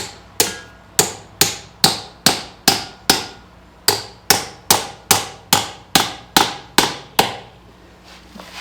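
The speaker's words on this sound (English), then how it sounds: "as we drive this nail, it's going to grab that strap and pull it really taut" A hammer drives a nail into a wooden board, pulling a strap taut on an anvil stand, in about fifteen sharp, evenly spaced strikes with a brief pause midway, close and loud.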